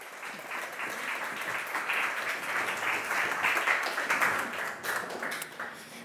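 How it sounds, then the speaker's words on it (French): A conference audience applauds a speaker at a talk on new technologies and social connection, steady, dense clapping from many hands for about six seconds, moderately close with no voices over it. "On peut l'applaudir."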